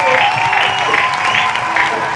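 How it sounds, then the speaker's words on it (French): A church congregation at a tabernacle in Kinshasa claps in a loud, continuous burst of applause, blended with voices and sustained musical tones. "Acclamons encore pour la gloire du Dieu."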